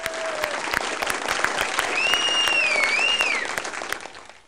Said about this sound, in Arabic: يلا عيال شجعوا يا كنترول.